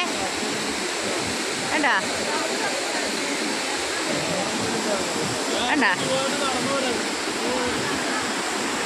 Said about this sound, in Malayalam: നോക്കിക്കേ, വെള്ളം ഒഴുകി വരുന്നത് നോക്കിക്കേ, എത്ര ശക്തിയിലാണെന്ന്